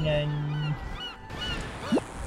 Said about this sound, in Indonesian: kita diikutin burung lagi teman-teman